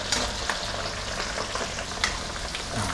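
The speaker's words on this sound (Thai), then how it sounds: "ทอดไฟแรงได้เลยนะครับ" Sun-dried beef frying in hot oil over high heat gives a steady, dense crackling sizzle with scattered sharp pops, close and continuous throughout.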